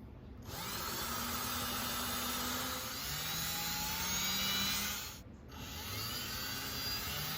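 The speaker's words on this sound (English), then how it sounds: "And so we're gonna make a pilot hole for our screw, okay?" A cordless drill from Walmart bores a pilot hole for a screw in a kitchen, whirring steadily and fairly quietly for about five seconds, briefly pausing, then spinning again; no speech.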